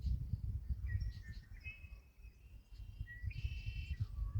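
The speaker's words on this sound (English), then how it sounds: "I hope that the video can pick up the sound of the birds." Swallows and other birds call beside a lake at Ancient Lakes, Washington: thin, high chirps and short trills, faint and a little distant, over a soft low rumble of wind.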